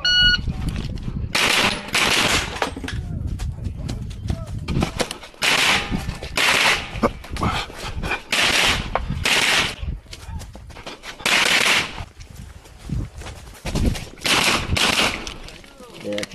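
Rapid strings of pistol caliber carbine gunfire ring out during an IDPA championship run-and-gun stage, loud close bursts in several clusters separated by brief pauses, with talk mixed in faintly.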